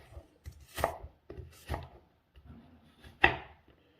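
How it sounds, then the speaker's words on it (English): A knife chops celery root on a cutting board into thin matchstick slices, giving several separate crisp knocks at an uneven pace, with one louder, sharper chop near the end. "And then you cut those into little matchstick slices like this."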